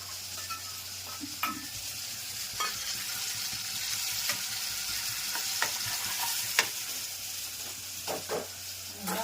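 Roasted eggplant oḷo being stirred and mixed in a pan, a low continuous sizzle with scattered scrapes and taps of a spoon against the metal, fairly quiet and close.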